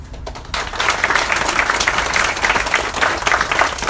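Audience applause at a Boy Scouts ground-breaking ceremony: steady, dense clapping from a crowd that starts abruptly after a brief quiet moment and holds evenly throughout.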